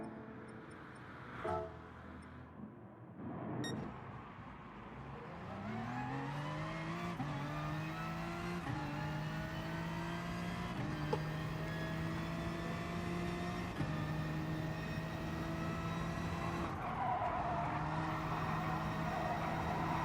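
A BMW race car in the GT Sport video game accelerating, its engine revving steadily upward through repeated gear changes, loud and continuous after a few brief clicks at the start.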